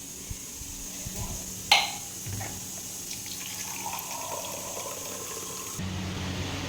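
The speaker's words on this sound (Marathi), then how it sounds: "बॉटल भरून ठेवा लागेल तुमच्यासाठी" Water pours steadily from a tap or jug into a bottle in a home, a continuous gushing fill with a sharp clink near the start and a slight change in tone toward the end.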